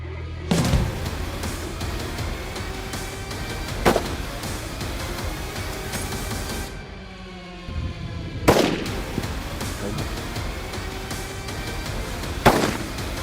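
Rifle shots on a hunting safari ring out as sharp, loud cracks, four separate reports spread across an open outdoor setting with quiet ambient noise between them.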